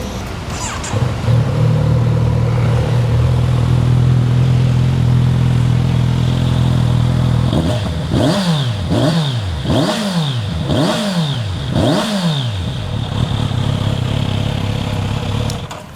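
A four-cylinder motorcycle engine, from a Kawasaki Z900 RS or Yamaha MT-09, idles smoothly, then revs repeatedly in a series of sharp rising and falling bursts, loud and close.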